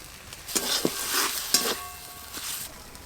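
Onion and mashed pea pods fry in a pan with a steady sizzle, broken by several scraping stirs of a spatula, close up with no talking.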